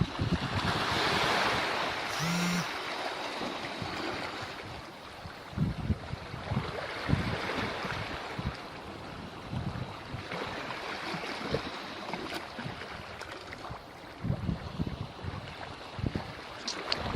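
Moving water outdoors with surf-like waves washing and churning, plus buffeting wind noise on the microphone, heard at a moderate distance and fairly quiet.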